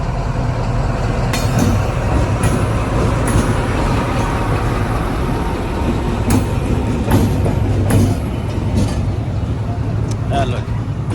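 A train engine moves through Wazirabad station with a continuous low rumble and occasional sharp clanks and clicks of wheels on track, steady and fairly loud, while people talk in the background.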